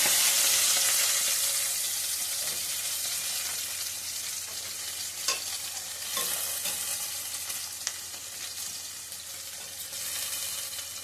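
Green chillies and onions sizzle and fry steadily in a pan for a chicken curry, a continuous bright crackle with occasional stirring clinks, close and loud.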